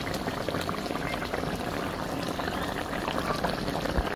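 Spicy tilapia fish curry boils down in a pan, a dense, continuous bubbling and sizzling with a steady hiss and small pops throughout and no one speaking over it.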